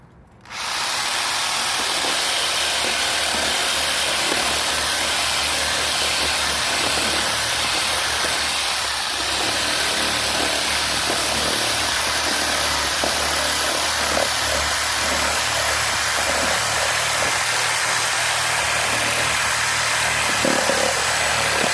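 A DeWalt power tool runs continuously, loud and close, cutting off scrap material in a steady, unbroken whine after a brief start, with no talking over it.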